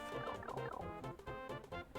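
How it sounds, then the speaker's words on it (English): Cartoonish seagull cries from the video game Yoshi's Island, a run of rapid squawking, cackling calls repeating in quick bursts with a bouncy rhythm, fairly faint and on their own. "there are like seagulls that fly at you"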